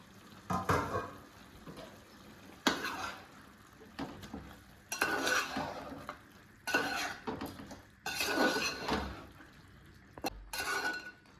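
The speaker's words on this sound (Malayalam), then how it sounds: "ഇടയ്ക്കൊന്ന് തുറന്ന് നോക്കിയിട്ട് ഇളക്കി കൊടുക്കാം." Chicken cooking in a pot without added water is stirred after the lid comes off, producing repeated bursts of scraping and clanking against the pot over a soft background sizzle.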